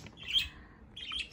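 A pet bird beside a newly unboxed swing toy with a mirror gives two faint, brief high chirps about a second apart, with quiet room noise between.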